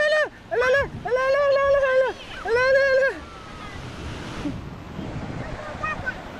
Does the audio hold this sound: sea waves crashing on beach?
yes